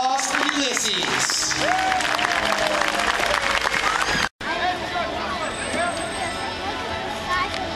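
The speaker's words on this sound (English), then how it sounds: "make sure you give them a big round of applause" A crowd claps steadily in dense applause at a SeaWorld San Diego show, with voices and cheering mixed in; the applause breaks briefly, then resumes a little quieter.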